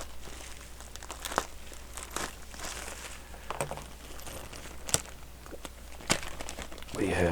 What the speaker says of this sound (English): And I can get the tape off of it.